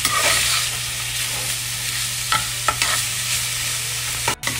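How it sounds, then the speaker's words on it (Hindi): Mixed vegetables sautéing in a pan for Singaporean rice, a steady loud sizzle with a few sharp stirring clicks and scrapes near the end, no voices. "ये देखिए हमारे साथ हमारी वेजिटेबल्स कितनी अच्छी तरह और प्रॉपर्ली फ्राई हो रही हैं"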